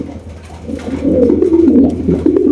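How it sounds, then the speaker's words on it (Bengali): Pigeons at a pigeon farm coo in low, throaty, rolling calls, close and loud, overlapping continuously with no one speaking. "এখানে কিন্তু আমরা আরো এক জোড়া শোকিং কবুতর দেখতে পাচ্ছি"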